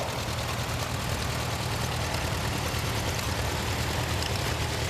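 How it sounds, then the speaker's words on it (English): An orange tractor at a farm show idles with a low, steady engine drone, rumbling evenly at a moderate distance with no change in pace. "Here's a tractor owned by Rose Anderson"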